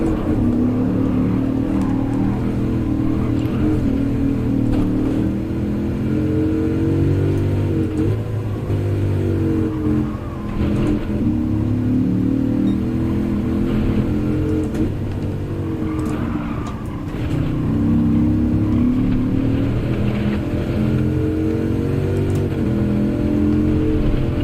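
Race car engine in the Gran Turismo video game held in fourth gear, a loud, steady droning whine that rises and falls slightly with speed, continuous throughout with no voices.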